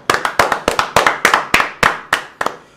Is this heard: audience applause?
yes